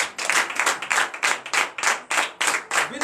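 Congregation at a Beninese morning prayer service clapping in acclamation, a steady rhythmic beat of loud, close handclaps, about three per second, with no talk.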